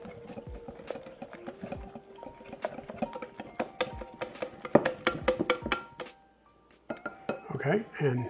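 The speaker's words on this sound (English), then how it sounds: "I'm going to add that to the dry mixture, get everything out, and then I'm going to mix this up real well." Banana muffin batter being mixed in a bowl for a six-cup pan: a near, brisk run of clinks and scrapes from a utensil against the bowl, thick and irregular, with a short pause and then softer stirring with some rustling.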